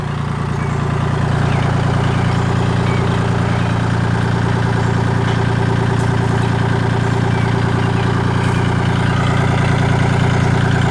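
A borrowed Kubota tractor engine runs steadily nearby at a loud, even idle with a deep low hum and mechanical clatter, holding constant for the full stretch with no talk.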